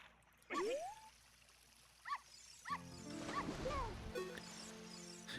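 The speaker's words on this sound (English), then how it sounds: "my targeting sound is the dogs barking from the village" Village dogs barking as a sound effect in a Zelda Ocarina of Time randomizer game: a few short, faint yips and barks scattered under a low, steady hum.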